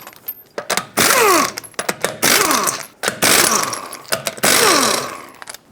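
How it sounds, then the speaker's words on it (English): A power tool turning a 21mm socket spins lug nuts off the rear wheel of a 2012-2017 Toyota Camry. Several loud, whirring mechanical bursts of about a second each are separated by short pauses. "Now use a 21mm socket and your tool of choice to remove the rest of the lug nuts."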